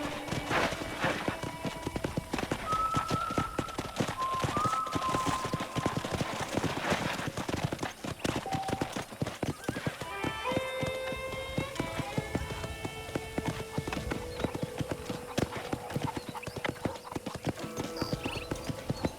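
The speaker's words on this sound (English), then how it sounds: "I picked out a fine horse for you." Steady clip-clop of horse hooves trotting along in the video game Red Dead Redemption 2, continuous and close, with a brief whinny and soft musical tones drifting in the background.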